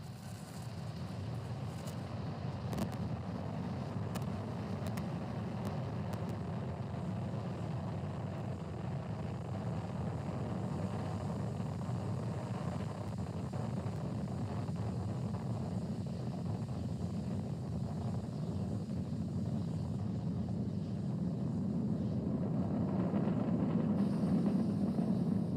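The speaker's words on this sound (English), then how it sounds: "Falcon 9 has successfully lifted off from our pad 39A at the Kennedy Space Center" A SpaceX Falcon 9 rocket lifting off from pad 39A at the Kennedy Space Center on a Starlink mission, a steady, distant rumbling roar that holds for the whole span and swells slightly toward the end, heard alone.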